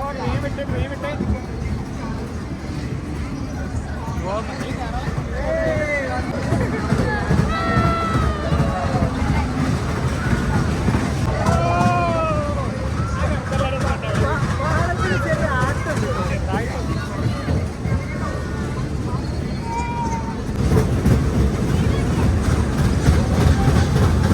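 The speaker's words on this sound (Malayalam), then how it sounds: "ഞങ്ങളെ ട്രെയിൻ പുറപ്പെട്ടു" An amusement park ride train rumbles along with a steady rolling clatter as riders chatter and call out around it.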